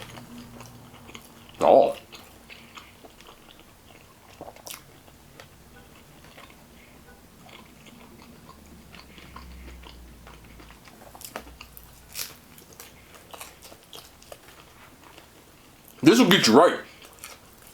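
Bites and chewing of Pizza Hut pizza with a garlic parmesan crust, two loud crunchy bursts near the start and end with quiet mouth sounds between, and someone speaking briefly.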